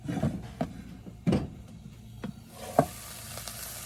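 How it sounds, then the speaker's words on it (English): Broccoli and other vegetables sauteing together in a pot, a soft low sizzle broken by scattered clunks and scrapes of stirring at close range, with no talking. "Everything is in our pot sauteing."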